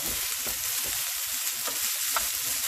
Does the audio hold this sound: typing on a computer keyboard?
no